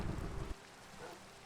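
Rain and a rumble of thunder play in Minecraft, a heavy low roll that cuts off abruptly and leaves a quieter patter of rainfall, faint in the background.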